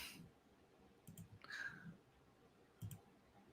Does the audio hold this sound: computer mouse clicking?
yes